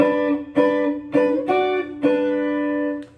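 An electric guitar, played through effects with a synth-like tone, picks the intro phrase of a song as a run of five sustained, distinct notes, close and clear with nothing else behind it.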